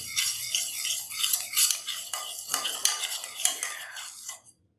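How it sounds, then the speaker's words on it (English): A spoon stirs sweet berry sauce in a pot as it comes to a boil, clinking and scraping against the metal in quick irregular strokes with faint bubbling, close and clear, then fading out. "So when it starts to boil, we're going to keep it moving."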